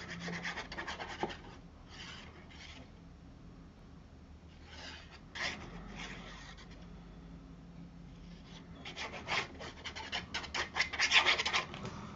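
Paper glued onto card is rubbed and pressed flat by hand for a craft folio, giving intermittent dry scratching and rubbing strokes, close and quiet, that grow busier toward the end with no talk.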